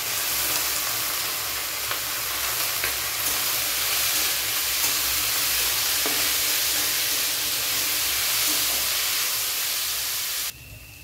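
Small chopped potato pieces, drained of water, fry in hot oil in a pan with a steady, dense sizzle and hiss that runs close and even for the whole stretch, stopping abruptly near the end.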